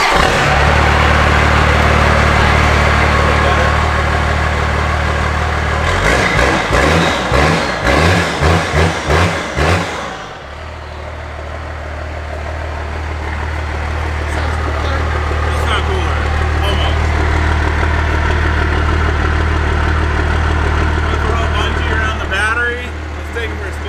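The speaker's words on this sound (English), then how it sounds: "All right, we're gonna see what this sounds like. Straight pipe." Chevy truck converted to a Cummins diesel with straight pipe exhaust, loud and close, idling with a heavy low rumble, then a few rapid revs, then a steady throaty idle again.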